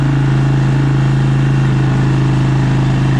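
A 2004 Suzuki LTZ250 ATV engine runs with its carburetor vent unplugged, a loud, close, steady fast-pulsing idle held at a high throttle setting throughout, no voices.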